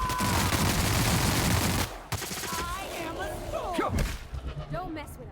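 Gunshots from a gun fired in The Outer Worlds while fighting near a cave, loud and sustained at first, then scattered cracks with whooshing effects and a voice speaking over the fading action.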